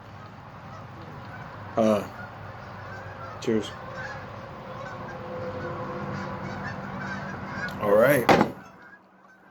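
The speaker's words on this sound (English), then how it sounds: "the geese are very loud in the lake" Geese honk on a lake in a few scattered calls, then a louder burst of honking near the end, heard over steady outdoor background while someone speaks briefly.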